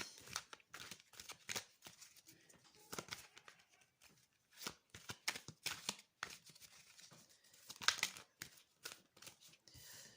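Tarot cards are shuffled by hand in quick, soft bursts of riffling and slapping, close up but quiet, with short pauses and no talk.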